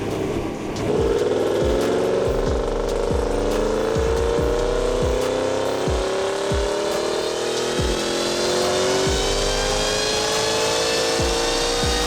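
Audi car engine accelerating hard on a boost pull with four wastegates, a loud, rising roar climbing steadily in pitch over about eleven seconds, punctuated by regular sharp gear-shift or firing pops, with no talk.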